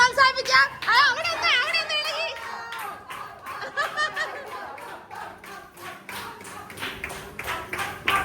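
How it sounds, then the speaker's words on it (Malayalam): A group at a Malayalam get-together pillow game claps hands in encouragement. Brisk, uneven clapping runs throughout, mixed with chatter and laughter. "കൈയടിച്ച് പ്രോത്സാഹിപ്പിക്കാം"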